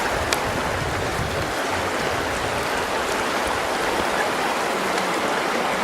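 River water flowing steadily through a canyon in Zion National Park, with a constant broadband rush and no talk.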